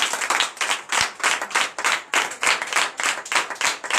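A church congregation claps loudly in a rhythmic burst, with many hands striking together in dense, pulsing waves close by. No voices are heard.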